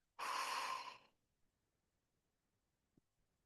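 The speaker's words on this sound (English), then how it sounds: "together we'll take a nice deep breath in through our nose and then exhale" A single deep breath drawn in through the nose and released, heard as one close, loud airy rush lasting about a second, then near silence with a faint soft click.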